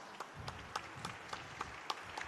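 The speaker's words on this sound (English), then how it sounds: "why don't we give them a round of applause?" A small conference audience claps briefly for panelists at Web Summit Rio 2023, scattered, fairly quiet claps heard at a distance in a thin, sparse round.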